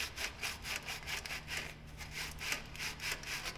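Sandpaper rubbed back and forth over aluminium to remove burrs, a steady rhythmic scratching of about three strokes per second, close and fairly quiet, with no talking.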